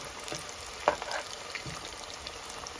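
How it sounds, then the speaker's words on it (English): Masala fries crackle and sizzle in hot oil with a steady hiss, a few sharper pops and a brief clatter as the batch is turned midway, no voices. "Still have to fry more"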